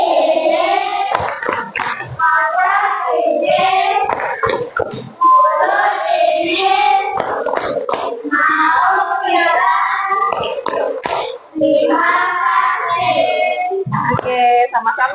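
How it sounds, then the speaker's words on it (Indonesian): Schoolchildren in a classroom chant a rhythmic thank-you clap routine together, their voices carrying a sing-song melody and punctuated by sharp group hand claps throughout. "Tahu tepuk terima kasih?"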